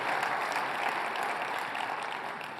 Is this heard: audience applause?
yes